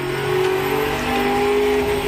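A turbocharged muscle car engine in the game Automation revs steadily and loudly, its droning tone climbing slightly as the turbo spools, heard alone without talking.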